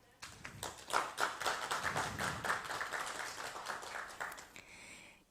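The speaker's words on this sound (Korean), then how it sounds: "박수 부탁드립니다." Applause from an audience at an education ministry project briefing, a burst of crisp hand claps with distinct individual claps standing out, sustained for several seconds before dying away.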